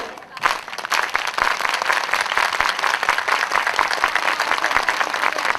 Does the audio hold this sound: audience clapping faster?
yes